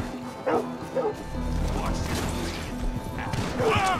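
Dogs in Red Dead Redemption 2 bark and yip repeatedly through a busy, loud game scene with crashing impacts and a voice over the top.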